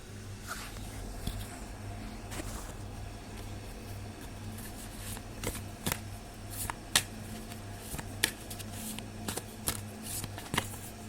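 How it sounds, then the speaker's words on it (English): A deck of oracle cards is shuffled by hand before a card is drawn, with soft, close riffling and slapping of cards repeating steadily, growing a little sharper toward the end. "I'm pulling the dream decoder and I'm going to take a card for you"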